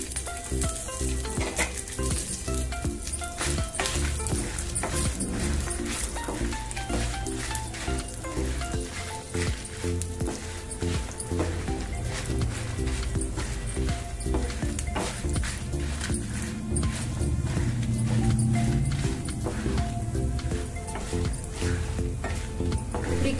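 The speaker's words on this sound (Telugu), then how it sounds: "అన్ని వేగుతున్నాయి. ఇందులో ఎండుమిర్చి ఒక 15 వేసుకోవాలి." Dried red chillies fry in a pan, giving a steady, dense crackling sizzle with occasional stirring scrapes that carries on throughout.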